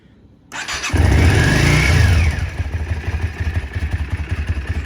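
A Yamaha Dragstar 400 Classic running without its air filter fires up, then revs hard and loud for about a second, its rough intake roar dropping back to a lumpy, close idle.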